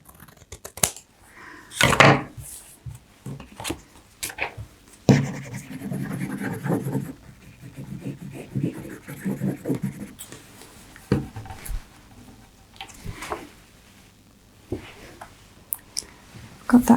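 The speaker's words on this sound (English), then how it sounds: "I'm just going to use a pair of scissors to do it" Scissors snip and scrape through a piece of card while a flip-out photo pocket for a junk journal is made, with irregular close cuts and rustles separated by short pauses.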